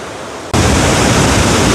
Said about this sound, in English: can you hear the roar of the waterfall?